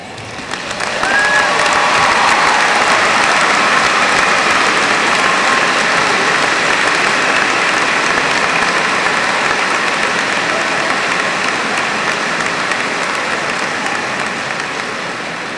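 Loud, sustained audience applause fills a high school graduation ceremony, a dense wash of clapping hands that holds steady for about fifteen seconds with only a faint scatter of voices beneath it.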